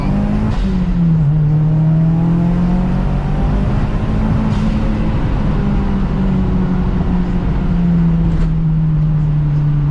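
A Mazdaspeed 6 fitted with a BNR S4 turbo accelerates hard, its engine droning loud and close from inside. Gear changes dip the pitch before it climbs again, with no voices over it.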